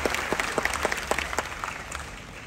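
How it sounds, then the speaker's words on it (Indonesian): A small seminar audience claps for a couple of seconds, the scattered hand claps fading toward the end. "Boleh tepuk tangan, jangan ragu-ragu biar gak adem ya kan."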